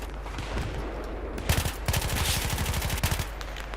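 Rapid bursts of automatic gunfire in the video game Battlefield 3 crackle over a steady background hum, with sharp repeated shots in quick clusters.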